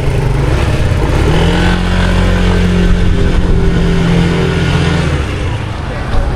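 A loaded motorcycle engine runs steadily close by with a low, continuous drone, then eases off near the end as it pulls away, while voices talk over it.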